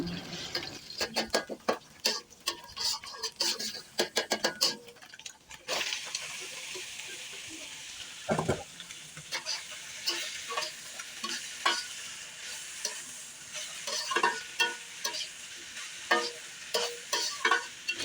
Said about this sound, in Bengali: এখানে ডিমটা ফেটে নিচ্ছি তেলের মধ্যে।